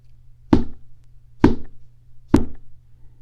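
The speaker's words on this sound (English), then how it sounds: "I heard knocking." Three slow, evenly spaced knocks on a door, hollow and fairly loud against a quiet room with faint low hum, no voices.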